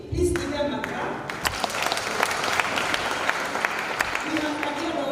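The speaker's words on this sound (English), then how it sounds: "Please give them a clap." A crowd at a regional drama festival award ceremony in Kasarani applauds, a loud sustained wash of clapping with sharp individual claps, following a brief voice at the start.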